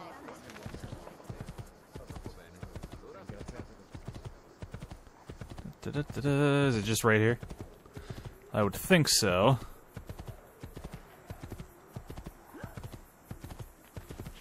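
Steady clip-clop of horse hooves in Assassin's Creed II trots along at an even pace, with a brief game-like musical flourish and someone talking over it.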